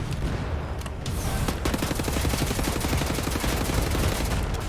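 Shotgun fire in the video game Wolfenstein: The New Order sounds as a rapid, dense string of loud blasts over a chaotic battle, with no talking.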